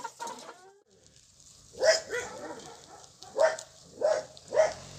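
Hens clucking in a coop, heard as a handful of short, fairly quiet clucks and squawks spaced out over a few seconds, with no talking.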